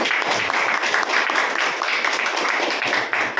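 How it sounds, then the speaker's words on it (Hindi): A crowd at a weekly business meeting in Gaya, Bihar gives loud, sustained applause, a dense wash of many hands clapping at once that holds steady throughout. "इनको जोरदार ताली बजाइए।"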